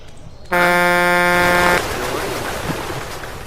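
A loud, steady vehicle horn blares once for about a second, then cuts off, leaving outdoor ambient noise.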